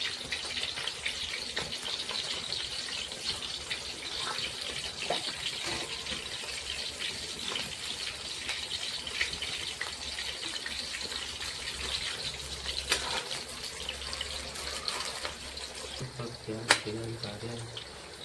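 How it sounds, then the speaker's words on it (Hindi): Eggplant pieces fry in a kadhai over a low flame, making a continuous hissing, bubbling sizzle with scattered small pops, heard close and steady throughout. "अब हम इन्हें भी एक एक करके कढ़ाई में डालकर सभी को धीमी आंच में तल लेंगे"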